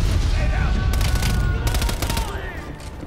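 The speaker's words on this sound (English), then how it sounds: "MP5 is very unaccurate." MP5 submachine gun fire in Call of Duty Black Ops Cold War comes as loud, rapid automatic bursts over a dense game soundscape, with a voice speaking partly over the shots.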